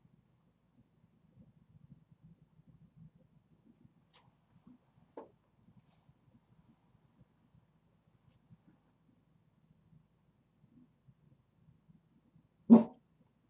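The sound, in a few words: dog barking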